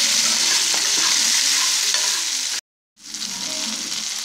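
Curry leaves crackle and sizzle in hot oil for a chutney, loud and close, with stirring scrapes, then a brief cut to silence before the sizzling resumes.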